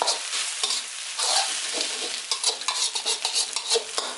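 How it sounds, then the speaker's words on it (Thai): Egg sizzles loudly in a hot oiled pan as a utensil stirs and scrapes in quick, uneven strokes, with no voices. "เรารีบขยี้นะคะไข่เขาจะได้ไม่เป็ก้อน"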